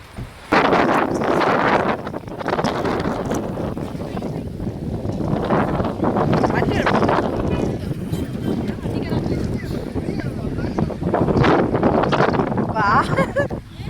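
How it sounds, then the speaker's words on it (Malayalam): Strong wind gusting at a hilltop temple, the Thirumalai Kovil near Tenkasi, roaring loudly and buffeting the microphone almost without a break, with voices faintly underneath. "വാ തുറക്കാൻ പറ്റത്തില്ല, കാറ്റടിച്ച് വായിക്കകത്ത് പൊടിയും മണ്ണും കയറും"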